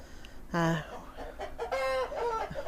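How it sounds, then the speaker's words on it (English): Jersey Giant chickens cluck and squawk nearby on a hot day around their coop, with short bursts of calls breaking over a quiet background. "Sorry, the birds are singing a really silly song together."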